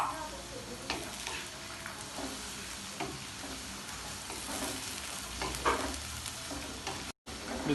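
Ground onions hit the hot chicken kadai pan and keep frying with a dense, continuous sizzle, with occasional stirring scrapes close by.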